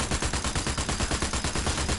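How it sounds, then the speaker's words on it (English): MKB-42 assault rifle, modelled on the Sturmgewehr 43/StG 44, firing full-auto in the game Sniper Elite 4: a steady rapid stream of loud close gunshots with no gaps, no talking. "we have the MKB-42, based on the real-life Sturmgewehr 43 or STG or 44"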